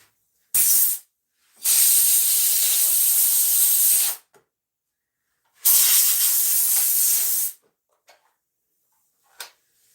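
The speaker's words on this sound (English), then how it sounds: "is my air compressor being weird?" Air compressor and pneumatic nail gun hissing while redwood planter boxes are built, with three loud bursts of spraying air separated by silences and a few faint ticks and clicks afterward.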